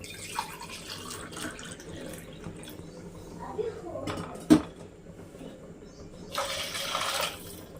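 Water pours into a cooking pot for mutton biryani in short splashy bursts, with clinking of cookware and someone talking nearby.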